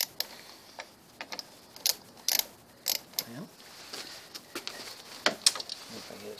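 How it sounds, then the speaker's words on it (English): Small ratcheting twist-on wrench tightening 10 mm bolts on a Honda Goldwing motorcycle during an overheating repair, heard as scattered sharp metallic clicks and ticks at close range in an otherwise quiet space. "As you see, he's got the cool little twist-on wrench there."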